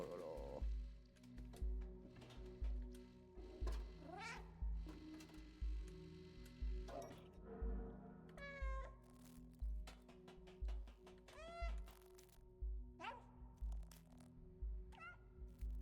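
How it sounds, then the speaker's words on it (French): A cat meows repeatedly in the video game Stray, short rising-falling calls scattered over rhythmic game sounds and music, while a person talks throughout. "c'est pour me montrer le chemin quand tu miaules"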